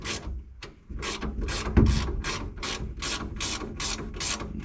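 A ratchet wrench tightening a seatbelt anchor bolt inside a Corvair 95 Loadside pickup: a close, steady series of sharp clicking strokes in a regular rhythm, with one louder knock partway through.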